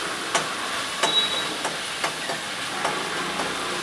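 In a hot pan, corn fries with Schezwan chutney, a steady sizzle broken by a few sharp clicks and scrapes as it is stirred, heard close up with no talking.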